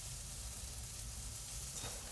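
Mushrooms fry in a pan with oil and salt, giving a steady, soft, even sizzle that holds throughout without a break.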